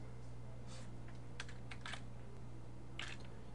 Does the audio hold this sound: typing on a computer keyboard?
yes